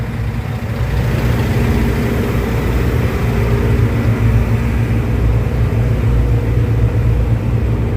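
A large tractor-trailer with two engines, one on each side, idles steadily with a deep, loud rumble. It waits in a ferry queue and runs unbroken with no voices.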